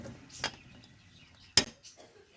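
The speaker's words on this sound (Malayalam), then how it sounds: "അരിഞ്ഞ മാങ്ങയെ നമ്മൾ ഇതിലേക്ക് ഇടുന്നു" Chopped mango pieces dropping into a jar, two sharp clinking hits spaced about a second apart with faint softer taps after, quiet and close.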